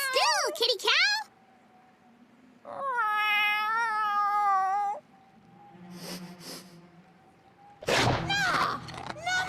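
A cartoon cat from the animated series Making Fiends lets out a few loud, wavering meows and a long strained caterwaul, with a short thump and a shrill yowl toward the end.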